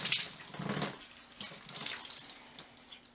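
Wet cloth diapers wrung out by hand during a flats handwashing routine, giving a few close splashy bursts of water trickling and dripping back into a basin, with no talking.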